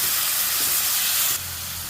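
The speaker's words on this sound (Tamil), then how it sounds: "வெங்காயம் ரெண்டு தக்காளி ரெண்டு போட்டு நல்லா வதக்கிடும்" Onions and tomatoes sauté in a hot pan with a loud, steady sizzling hiss that drops abruptly to a quieter sizzle near the end.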